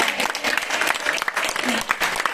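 A church congregation claps together in sustained, dense applause that stays fairly even and close throughout, with no pause in the clapping.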